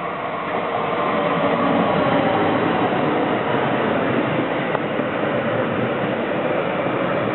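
A train passes through Tárnok railway station in Hungary, producing a steady, continuous rumble close by that holds evenly throughout.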